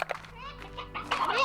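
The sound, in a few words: hens clucking in the video game Slime Rancher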